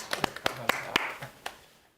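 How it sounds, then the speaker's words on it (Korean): A handful of people give scattered applause for a Lotte recruiting manager at a job interview session, with sparse, uneven handclaps close by that taper off into quiet. "우리 매니저 박수 한번 드릴까요?"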